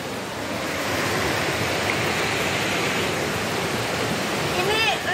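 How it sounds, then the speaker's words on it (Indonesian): Steady broadband rush of a river flowing past the bank, continuous and fairly loud throughout, with a brief faint chirp near the end. "Di pinggir sungai nih kita nih."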